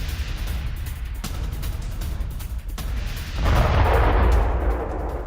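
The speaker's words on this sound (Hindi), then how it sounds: "मिसाइल अटैक की ये तस्वीरें सामने आई हैं, जहां देखिए एक बार फिर से हिजबुल्लाह के ठिकानों और सुरंगों पर हमले किए जा रहे हैं।" Missile strikes on Hezbollah positions and tunnels in Lebanon: rolling, rumbling booms with sharp cracks, swelling into a heavier, deeper blast partway through, with no voices.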